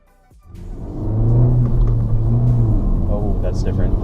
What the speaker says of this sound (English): so now I am driving the 2017 Civic Si